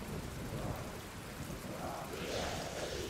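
Steady rain pours down in a Black Ops 3 Custom Zombies map, a Bus Depot remaster, as a dense, constant wash of drops hissing over a low rumble, with no talk.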